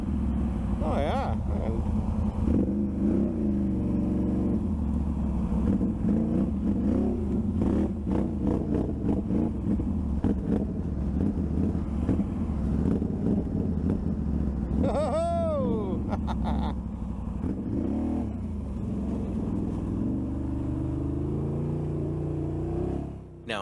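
A Can-Am Renegade ATV on ITP MT911 tires, 10-wide fronts, rides a twisty trail, its engine droning and rising with throttle changes throughout, with a voice talking over it at moments.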